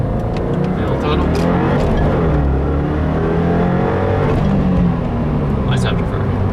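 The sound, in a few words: 2015 Subaru WRX accelerating at full throttle, afterfire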